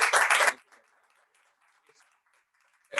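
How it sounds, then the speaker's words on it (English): An audience claps at a Rotary club gathering in Chandigarh: a dense, loud burst of applause that stops abruptly, then near silence with faint murmurs before clapping starts again at the very end. "The clap is not to me, the clap is to the board who is going to perform."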